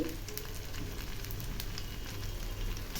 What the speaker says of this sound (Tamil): உருளைக்கிழங்கு பீசஸும் அதில் போட்டு இப்போ நம்ம நல்லா ஃப்ரை பண்ணி எடுக்கணும்